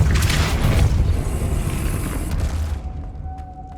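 A Depulso force spell blast in the Hogwarts Legacy video game, a loud booming burst with rumbling debris that decays over about two seconds before fading to quiet.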